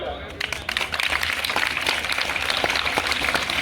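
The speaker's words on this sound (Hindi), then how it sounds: "बजाओ ताली" Crowd applause at a village inauguration ceremony in Diwana, Haryana, welcoming dignitaries; steady, dense clapping that swells after a brief start and continues throughout, with voices mixed in.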